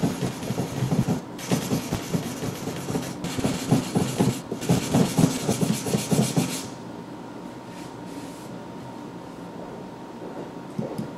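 Sandpaper is rubbed by hand along a steel knife blade for a satin finish, making a quick run of rhythmic scratchy strokes that stops after about six seconds, leaving near silence.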